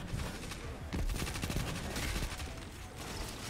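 Rapid gunfire in the video game Destiny 2 from a Titan build, with dense bursts of shots layered over busy battle noise, loud and close throughout.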